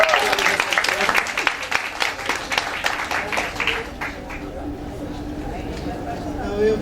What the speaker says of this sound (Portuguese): Uma salva de palmas para a nossa maravilhosa secretária.